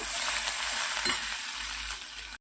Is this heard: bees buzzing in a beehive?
no